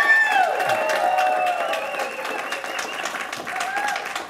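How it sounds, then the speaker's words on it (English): An audience claps through a church or community gathering, a steady wash of applause with scattered cheering and sustained organ or music tones underneath. "let's clap real loud so she can hear it from Chalk"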